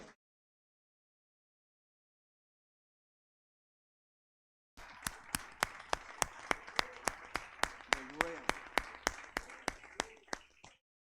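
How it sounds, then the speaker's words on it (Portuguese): A church congregation claps for the Lord after a stretch of silence, breaking into steady, rhythmic hand claps that keep an even beat for about six seconds before stopping. "Vamos aplaudir o Senhor"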